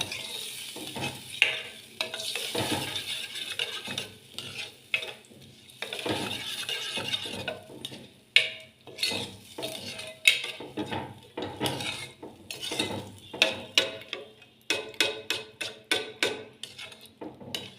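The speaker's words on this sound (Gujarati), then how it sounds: "પછી નાખી દઈશું બધા મસાલા. પછી એકદમ હલાવી દઈશું." A spoon stirs spices into dahi tikhari in a pot, making irregular scraping and clinking strokes against the metal. The clatter grows quicker and more rhythmic toward the end, with no talking.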